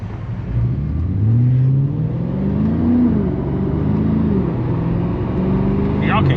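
A BMW F90 M5's engine revs and climbs through the gears while shifting on the street, loud and close with rising then dropping tones between shifts; a voice talks over it.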